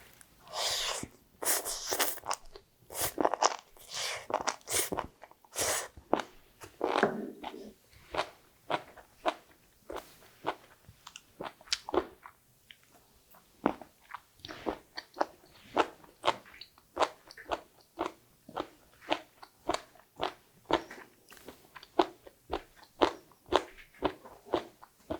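Close, crisp crunching of a seasoned seaweed stem side dish with carrots being chewed, dozens of sharp bites in a steady rhythm, louder and denser at first, then regular softer crunches with no talking.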